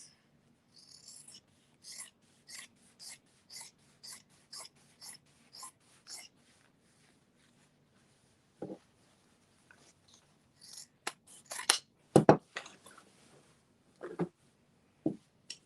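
Scissors cut across fabric for a sewing machine dust cover, a steady run of short, crisp snips at close range followed by a few louder, irregular rustles and clips, with no talking.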